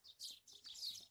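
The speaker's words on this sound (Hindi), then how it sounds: "चिड़िया बहुत बोल रही है" Birds chirping in a forest, quick faint high tweets repeating in close bursts with soft gaps, heard alone at low volume.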